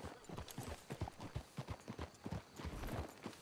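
Horse hooves clip-clopping in Red Dead Redemption 2, a quick, steady trotting rhythm of close, distinct hoof strikes with no talk.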